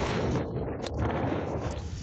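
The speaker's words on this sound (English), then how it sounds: "That's the sound of wind gusts of up to 325 kilometres per hour." Roaring gusts of Cyclone Pam wind, up to 325 kilometres per hour in Vanuatu, buffet the microphone in a dense, rumbling rush with no let-up.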